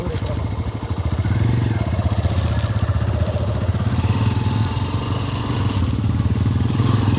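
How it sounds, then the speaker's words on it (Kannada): An off-road vehicle engine revs and churns steadily as its rear tyre slips on rough ground, a loud rumbling drone with crackling grit throughout and a voice speaking faintly underneath. "ಟೈರ್ ಸ್ಲಿಪ್ ಆಗ್ತಿದೆ ಹಿಂದ್ಗಡೆ."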